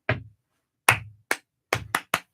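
Six sharp hand claps ring out in a syncopated rhythm: one clap, a pause, two claps, then a quick cluster of three, crisp and close with a short room echo.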